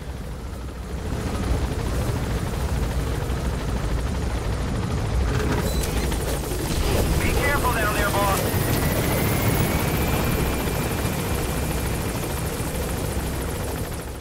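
A helicopter in Metal Gear Solid V: The Phantom Pain drones steadily and loudly throughout, with rumbling engine noise and a few faint higher tones rising midway.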